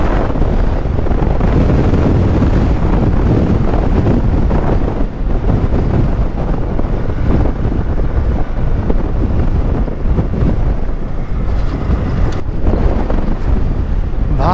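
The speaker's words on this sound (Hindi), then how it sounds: "कितना ही हवा चल रहा है देख रहे हो" Strong wind roars steadily against the microphone during a motorcycle ride through Marpha in the Mustang region of Nepal, a loud, continuous buffeting rush with no pauses.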